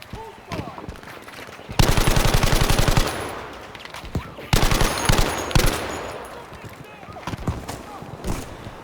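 Rapid automatic gunfire in the Battlefield V jungle level on the Solomon Islands, loud close bursts of machine-gun fire in two long strings with scattered single shots around them, under occasional talk.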